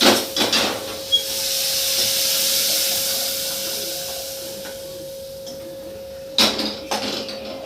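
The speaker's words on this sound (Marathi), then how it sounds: "आणि आता हा सांबार ही फोडणी मी यामध्ये ओतून घेत आहे." Hot tempering poured into sambar in a pressure cooker, a steady close hiss and sizzle that swells and slowly fades, framed by sharp clanks of utensils at the start and near the end.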